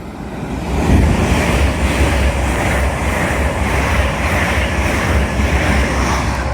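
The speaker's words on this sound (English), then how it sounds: "Pass through now will be a Lumo 803 from Edinburgh Waverley to London King's Cross" A Lumo class 803 passenger train rushes through Grantham station on the East Coast Main Line, a loud, steady roaring wash of wheel and air noise close by that holds throughout.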